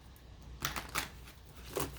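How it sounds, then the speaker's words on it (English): A deck of fairy oracle cards being shuffled by hand, three quick riffling bursts of papery flicks spaced apart, quiet and close with no voices. "I do like to shuffle them a couple times so that you can see that I've shuffled them."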